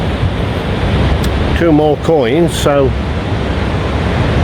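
Steady broadband wash of surf rolling onto a beach near Navegantes, constant and fairly loud beneath a man's brief speech, with some wind noise on the microphone.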